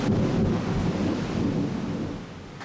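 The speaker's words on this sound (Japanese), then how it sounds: "雷も落ちる激しい雨が降りました。" Heavy rain pours in the mountain town of Jiufen in Taiwan, with a low rumble of thunder rolling beneath a constant loud wash of rainfall.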